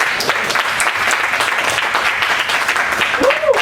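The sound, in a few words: audience applause at a lecture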